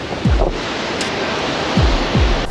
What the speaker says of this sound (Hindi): ये देखो, ये वाटरफॉल कितना प्यारा लग रहा है